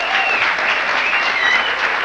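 Steady, loud applause from a TV talk show studio audience, a dense wash of clapping that holds evenly throughout without pause.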